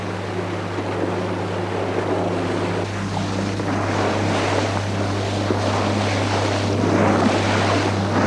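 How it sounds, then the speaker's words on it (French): A boat engine drones steadily as the craft moves across a misty Scottish loch, a loud low hum mixed with wind buffeting and water rushing past, with no talking. "Le moteur semble bien marcher."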